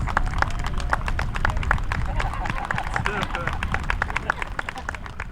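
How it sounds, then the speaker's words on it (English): Audience at a local news event gives a dense, steady round of applause for a fifth-grade poster contest winner, continuous clapping with faint chatter underneath. "Let's give her a round of applause."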